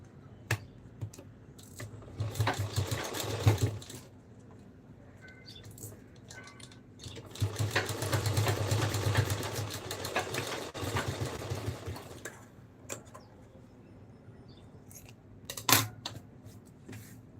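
A sewing machine stitches a belt onto a small Janmashtami dress for a baby Krishna outfit, running in two close, steady bursts of rapid stitching separated by quieter handling and clicks, with no talking.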